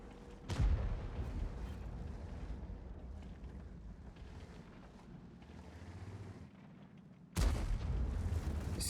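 Two heavy tank cannon booms in World of Tanks, one early and one near the end, stand out above a low rumbling game background.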